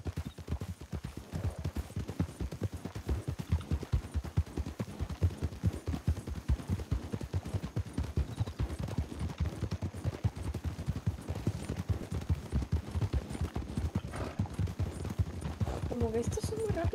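Horses gallop toward Blackwater in the video game RedM, with a steady rapid clip-clop of hooves throughout and faint game ambience underneath.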